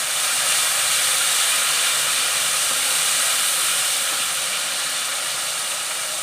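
Spice paste of cumin, mustard and green chilli sizzling in hot oil in a pan for tilapia jhal, a steady loud broadband hiss and crackle running unbroken throughout with no talk.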